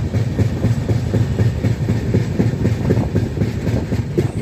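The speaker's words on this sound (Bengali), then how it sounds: "ট্রেনেতে এই তিস্তা নদী পার হতে প্রায় সময় লাগলো 3 মিনিট।" A train crosses the Teesta river, its wheels beating a loud, steady clickety-clack rhythm on the rails over a heavy rolling rumble, with no voices.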